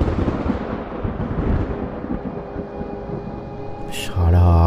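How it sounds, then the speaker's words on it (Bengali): Deep rolling rumble of thunder under a darkening stormy sky, loud and sustained, fading before a steady tone sets in at the end. "মেঘের গর্জন।"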